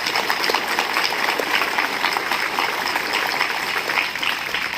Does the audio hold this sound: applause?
yes